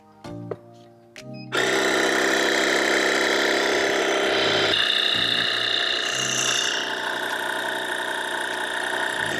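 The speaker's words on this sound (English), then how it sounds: "That's the Yantu A22 dual cylinder electric air pump" A Yantu A22 dual cylinder electric air pump inflating a tire, starting with a few clicks and then running as a loud, steady mechanical drone with a slight pulsing rattle, close by.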